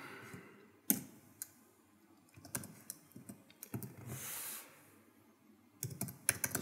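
Typing on a computer keyboard, scattered bursts of quick clicking keystrokes with pauses between, close and fairly soft, with no voices.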